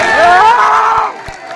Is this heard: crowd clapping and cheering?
yes